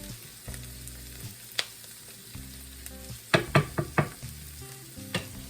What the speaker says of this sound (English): Now let's go over and check on our onions. Onions are starting to soften up